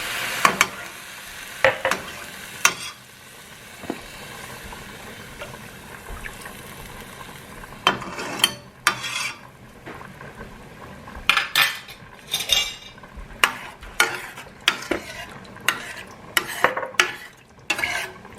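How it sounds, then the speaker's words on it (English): A spoon stirring tomatoes in a cooking pot, with repeated metallic scrapes and clinks against the pot over a low sizzle, irregular and close, with no talking. "I'm going to go ahead and add my tomatoes to the pot."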